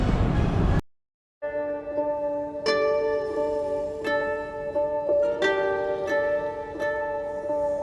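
Singapore airport inter-terminal train on rubber-tyred truck wheels, heard as a steady tonal whine and hum with rising harmonic tones and periodic clunks after a brief silence, close and continuous.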